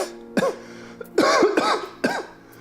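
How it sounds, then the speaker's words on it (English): A sick person's persistent, lingering cough: three separate bursts of harsh coughing and throat clearing, close and fairly loud, with short quiet gaps between them and no talking. "It's just the cough does not want to go away."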